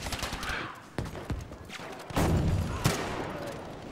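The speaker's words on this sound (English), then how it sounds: "I love the jungle carbine" Jungle carbine rifle fire in the shooter Battlefield 2042: a handful of sharp, spaced single shots with echoing tails, some near and punchy, others softer, amid low battlefield background noise.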